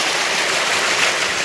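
Water flows steadily into a village pond with a continuous broadband rushing, like a small stream, and no one speaks.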